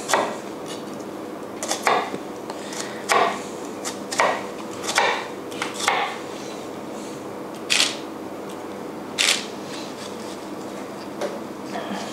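A knife chops shrimp and basil filling on a board in sharp, evenly spaced strikes, about a dozen over the span, each crisp and close.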